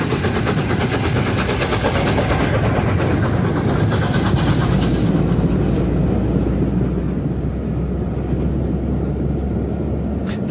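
The LNER Mallard steam locomotive leaving Skipton on a northbound run, a loud continuous rumble of the engine and rolling train, steady and close throughout.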